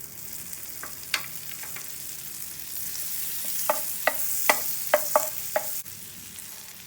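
A mushroom and cheese sandwich fries in butter in a pan with a steady soft sizzle, while sharper pops and crackles cluster toward the end, close up and without speech.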